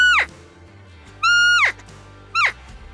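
Elk cow call, three short descending high-pitched mews spaced about a second apart, loud and close against a quiet background.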